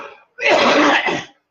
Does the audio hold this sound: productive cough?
yes